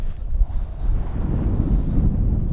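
Strong wind gusts on an exposed fell summit at 676 m in the Howgill Fells buffet the microphone with a loud, continuous low roar and no speech.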